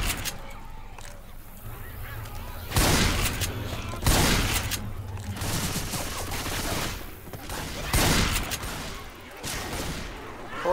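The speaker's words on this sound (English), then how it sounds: "I'll try this shotgun." Shotgun blasts in a zombie co-op video game, several loud, booming shots spaced a second or two apart, each with a short decaying tail over a busy game background.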